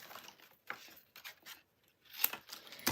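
Scissors snipping through scrapbook paper, a few short crisp cuts with small rustles between them, close and quiet with no talking.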